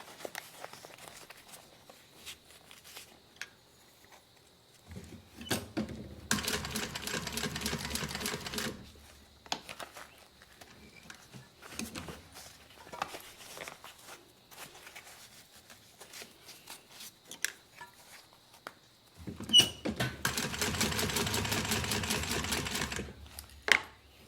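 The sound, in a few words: sewing machine stitching fabric around a curve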